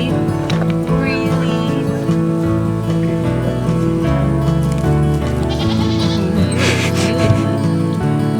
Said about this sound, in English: Want to go say hi to the goats? Let's go do it.